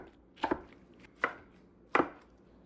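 A knife chops through cabbage on a cutting board in three separate, crisp thuds spaced roughly evenly, close and clear with no talking.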